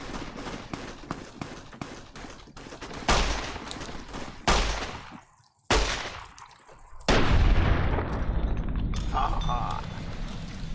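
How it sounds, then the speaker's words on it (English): Gunfire in the post-apocalyptic Fallout New Vegas wasteland: rapid rattling shots at first, then several heavy isolated blasts with ringing decay and short silences between, loud and near, with someone talking over parts of it. "Who's shooting?"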